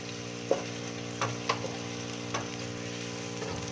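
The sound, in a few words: onions frying until brown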